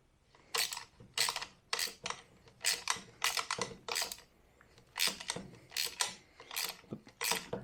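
Hex wrench tightening the collar of a tool, giving a series of short metallic clicks and ratcheting bursts in uneven clusters, close and fairly quiet with no talk.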